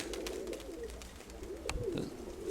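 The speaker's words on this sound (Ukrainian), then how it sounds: "Хороший там голуб." Soft, low cooing of pigeons repeating steadily, close by, with light rustling and ambient noise around them.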